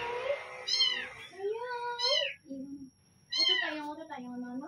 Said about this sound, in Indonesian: Sorry ya guys, anak kucing aku lapar.